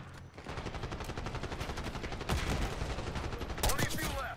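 Rapid, dense gunfire crackles through a Black Ops 6 campaign firefight, with sharp repeated shots and a few heavier bursts near the end, fairly quiet overall.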